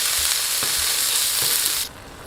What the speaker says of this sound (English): I've inserted my chopped onions along with my unsmoked pancetta. As you can see, I'm just giving that a nice little stir